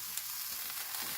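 Chopped onions sizzle in a pan for Korean curry, a faint, even hiss of frying with a few soft stirring touches, and no one speaks.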